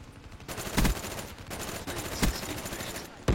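Automatic gunfire rattles in a first-person shooter video game with a heavy-recoil gun, sustained bursts with a few louder shots standing out, loud and dense throughout.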